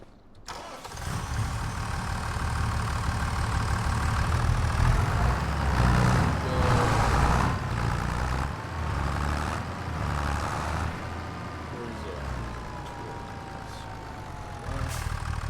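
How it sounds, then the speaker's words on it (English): A tractor engine in the Farming Simulator 25 video game starts and settles into a steady, loud low-pitched idle rumble that runs continuously and close up, with slight shifts in tone. "Let's just get into this tractor here."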